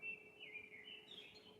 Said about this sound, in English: Can you hear the birds outside our window?